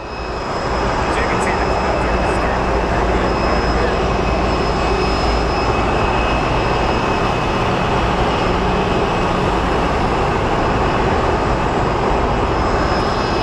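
A large aircraft approaches at Sky Harbor Airport, a loud, broad, steady engine roar with a high whine on top, filling the whole span without letting up.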